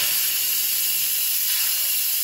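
Steam hisses loud and unbroken from a pressure cooker on quick release after cooking a gammon joint with sugar, a strong close rush that holds steady the whole time, with no talk.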